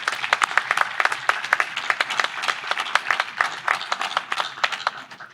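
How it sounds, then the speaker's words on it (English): At a law school commencement, a smaller audience claps for an honorary degree recipient, each hand clap sharp and distinct in a quick, uneven patter that gradually thins out. "Let's give another round of applause for our very special honorary degree recipient, the Honorable Justice Edwin Cameron."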